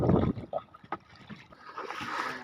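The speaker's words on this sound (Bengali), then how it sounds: "দর্শক বাতাসের শব্দ শোনা যাচ্ছে এবং বাতাস হচ্ছে" Wind gusting over a small hand-rowed wooden boat on the Kopotakkho river in Satkhira, Bangladesh, a steady rushing broadband noise with a heavy low buffet at the start and occasional faint knocks, no talk.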